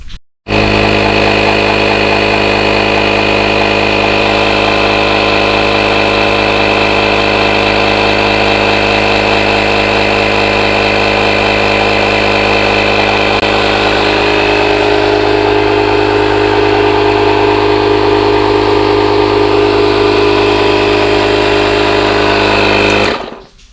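A pump runs steadily for about 23 seconds, inflating the front tire of a 60V Goat Bikes Billy Goat V2 electric bike up to 25 PSI after reseating the bead, a loud continuous motor drone with no talk.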